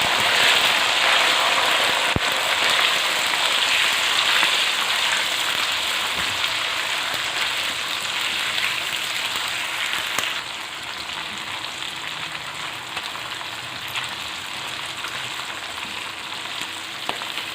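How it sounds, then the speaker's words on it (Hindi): Green chilies fry in hot oil for a Hyderabadi chili and tomato salan, giving a steady, dense sizzle throughout that eases slightly partway in, with no voices. "इन सब्ज़ मिर्चों को हम थोड़ी देर फ्राई करेंगे।"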